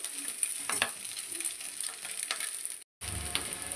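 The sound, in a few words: blood fry curry frying in a pan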